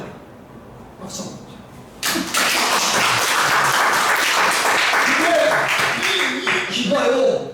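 A lecture audience at a business leader's talk on leadership in the AI era breaks into loud, sustained applause after a few quiet seconds with faint talk. The clapping stays dense and steady to the end.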